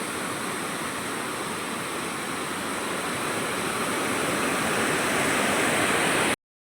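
Rameshwar waterfall at Jamkhed roars loud and steady, a dense continuous rush of high-pressure falling water that fills the whole clip before cutting off abruptly.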